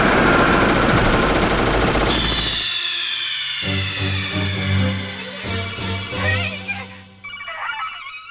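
Gunfire in the video game Metal Gear Solid during a Liquid Snake encounter: a loud, sustained burst of rapid electronic shots, followed by ringing, sweeping tones and synthetic game effects.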